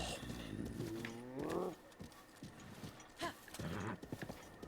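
Horse hooves clip-clopping across open ground in Zelda: Breath of the Wild, with a neigh or snort breaking in, faint and intermittent over quiet background.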